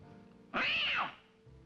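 A cat lets out one loud, drawn-out meow lasting about half a second, close and clear against a quiet background.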